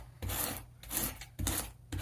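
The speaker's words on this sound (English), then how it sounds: "Now we're back to the scraping part." A tool rasps across model railroad scenery material as it is shaped. The strokes are close and dry, coming in four distinct bursts with short pauses between them.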